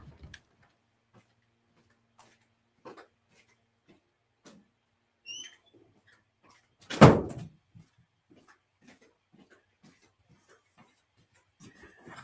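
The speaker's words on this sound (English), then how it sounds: "Let me close the door." Indoor door pushed shut, one solid thump landing midway through an otherwise quiet stretch, framed by scattered faint clicks and light shuffling before and after, with no speech.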